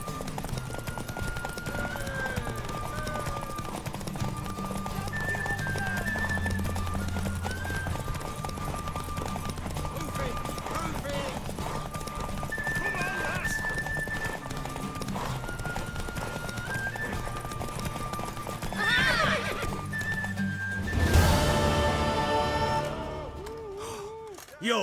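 Rhythmic hoofbeats clip-clop steadily while a horse whinnies now and then, with game music and faint voices underneath from The Witcher 3; a louder neigh bursts out near the end.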